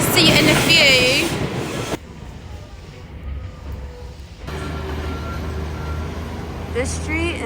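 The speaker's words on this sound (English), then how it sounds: "The train is here though" A train pulls into a Tokyo station, its low rumble and hiss building under busy platform noise, with people talking close by and a brief electronic chime near the start.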